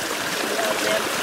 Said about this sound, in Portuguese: Sentar na beira do riacho.